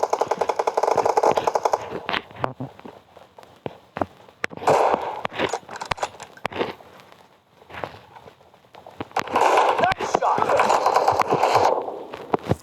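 An M4 rifle in PUBG Mobile fires rapid automatic bursts, loud and close at the start and again near the end, separated by quieter stretches of scattered shots and footsteps, with a voice heard at times.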